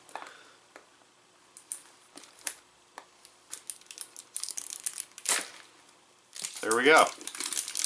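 Plastic packaging of FF Instant Noodles Oriental Flavor crinkles and rustles in scattered bursts, then is torn open with a louder ripping sound. A voice speaks briefly.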